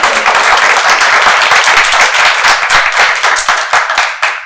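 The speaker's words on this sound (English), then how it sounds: "let's give everyone here a round of applause" Audience applause closing a policy roundtable on Rhode Island clean energy legislation, loud, close, brisk clapping from a room of people, continuous through the whole stretch and tapering slightly at the end.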